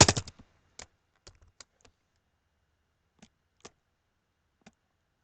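A computer keyboard clicks sparsely in a quiet room as text is typed into Flash: a quick cluster of keystrokes at the start, then isolated, crisp taps spaced a second or more apart.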